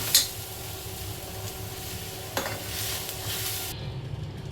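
Chopped onion roasting in a pan for a spicy chicken vade masala, with a steady soft sizzle and a couple of brief stirring scrapes, heard close and alone.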